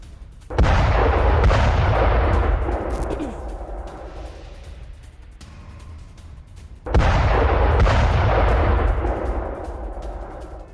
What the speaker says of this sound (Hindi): इजरायली एयर डिफेंस ने हमले को नाकाम किया। आईडीएफ ने हवा में ही रॉकेट को मार गिराया है।